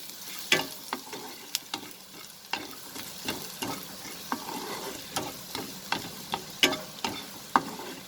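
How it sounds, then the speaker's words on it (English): Chopped ginger, garlic and cumin seeds sautéing in a pan for paneer toast, a soft sizzle broken by roughly regular spatula taps and scrapes, about one or two a second, close up. "I will add the chopped ginger and garlic"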